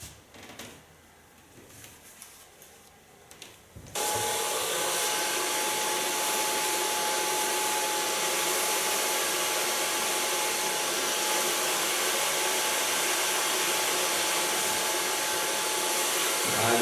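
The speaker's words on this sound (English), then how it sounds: "I'm going to blow dry the hairs with a medium light brush" A handheld hair dryer blow-dries hair over a medium brush in a salon, switching on abruptly after a quiet stretch and then roaring steadily and loudly with a constant airy whoosh and a faint high whine, with no talking.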